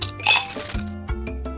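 Ice cubes drop into an iced coffee in a kids' barista video game, a bright clinking clatter followed by a couple of smaller clinks, close and alone.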